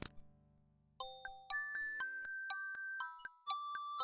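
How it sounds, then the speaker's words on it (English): Wind-up mechanical nightingale from King's Quest VI playing a sweet, tinny tune: evenly spaced bell-like plinks of a simple melody over a low drone that fades out after the first second. "The mechanical nightingale sings a sweet, tinny tune."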